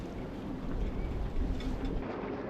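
Jet skis race at full throttle at Aquax Scarborough, producing a rough, distant-to-mid engine roar mixed with wind buffeting.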